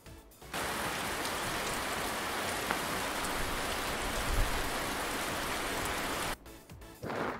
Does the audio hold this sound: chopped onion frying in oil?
no